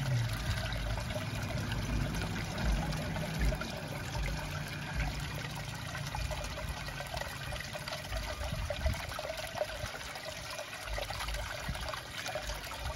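A water jet in a garden side fountain splashes steadily and continuously, a close, even rush of falling water with no speech over it.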